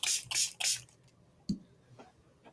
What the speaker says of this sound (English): Let's spray a lot of water this time, see what this does.